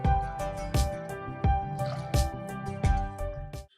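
Water is poured over washed rice and moong dal in a pressure cooker, giving a close, gurgling, dripping splash with repeated bursts as the pour fills the vessel.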